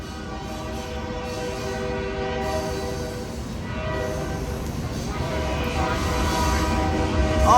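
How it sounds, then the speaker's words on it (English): A Union Pacific freight train rumbles past at Martinez station, a broad steady roar of wheels and engines that slowly swells louder, with sustained horn tones woven through the noise. "That's a Union Pacific train."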